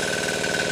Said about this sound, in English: I mounted my little diesel on a frame with a 63 amp GM alternator